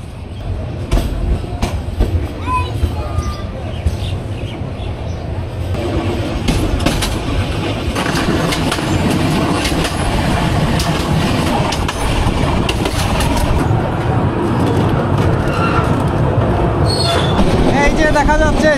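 The Tista Express pulling out of Islampur Bazar station and running on the rails, a loud continuous rumble with rhythmic wheel clatter and occasional high squeals, and faint voices in the background.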